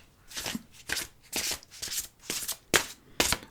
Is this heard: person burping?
no